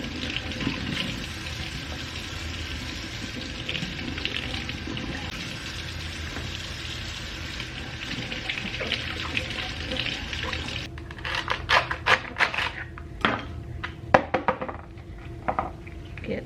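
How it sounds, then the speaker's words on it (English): Tap water runs steadily into a sink while a layered vegetable is rinsed to clear dirt from between its layers. A broad, even rush gives way to scattered close clatters and splashes near the end, with no talking. "Get this washed off really good with all that dirt in between the layers"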